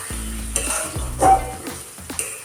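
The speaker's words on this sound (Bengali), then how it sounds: "এর জন্য সামান্য মশলায় জল দিয়ে দিচ্ছি।" Water poured onto spice paste frying in a pan for a burbot (lote fish) curry: loud hissing sizzles flare up several times in short bursts over steady background frying, with stirring sounds.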